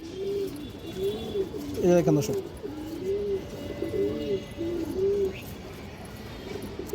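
Pigeons coo repeatedly in rhythmic, rounded phrases at close range, while someone speaks over them among a mixed flock including Budapest, Army and high-flyer breeds.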